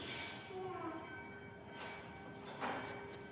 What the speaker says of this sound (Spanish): Que así como suena la campana, que nos recuerda el día del Señor resucitado